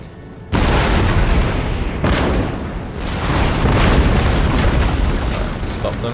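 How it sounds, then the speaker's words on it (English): A volley of cannon fire in Empire: Total War, heavy booming blasts, one sharp at the start and another about a second and a half later, trailing into a dense rumbling roar of gunfire and explosions, loud and close. "Right, I'm going to let my cannons fire one more volley."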